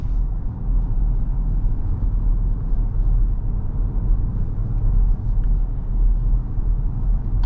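A 2025 Ford Ranger pickup with a 2.3L engine cruises steadily, heard as a constant deep low rumble of road and engine noise from inside the cab, with no voices.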